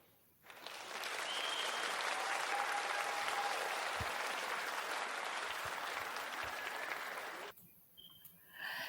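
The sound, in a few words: audience applause for a prayer partner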